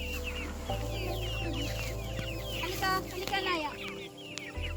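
Free-range chickens cluck and chatter close by over a steady low engine-like hum, with occasional louder squawks; a person calls out briefly.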